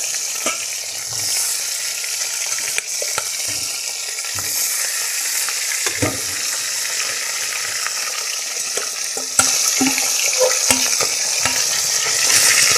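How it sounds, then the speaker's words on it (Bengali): Rohu fish fry in hot oil in a Bengali home kitchen: a steady, bright sizzle runs throughout, broken by occasional clinks and stirring scrapes, getting slightly louder near the end, with no talking. "এভাবে মাছগুলো ভেজে নেব।"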